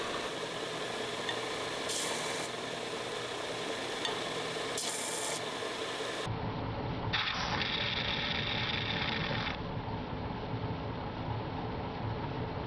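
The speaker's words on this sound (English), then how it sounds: "we'll put a slight chamfer on the sharp inner edge of the caps" Filing or deburring a slight chamfer on the sharp inner edge of restored 255 Mercury flathead V8 connecting rod caps, a steady close rasping rub with brief brighter scraping bursts throughout.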